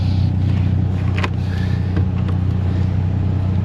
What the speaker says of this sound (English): The blower motor's grumbling.